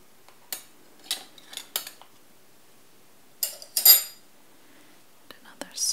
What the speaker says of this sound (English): So some are larger, more like tablespoon size. This one's more of like a teaspoon size.